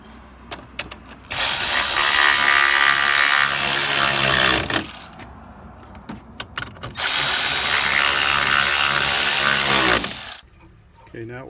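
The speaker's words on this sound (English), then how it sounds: "get your ratchet, just start tightening them up one by one." A hand ratchet tightens the grille shutter bolts on a 2020 Chevy Suburban in two long, loud bursts of rapid clicking, with quieter handling noises before, between and after them.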